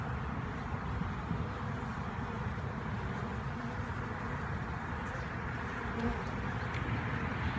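Honey bees buzz in a dense, steady drone during an eclipse, many insects humming together nearby without pause, loud and continuous.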